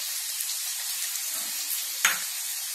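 Potato pieces frying in hot oil in a pan for a moong dal badi curry, a steady close sizzle with one brief louder crackle partway through, no voices.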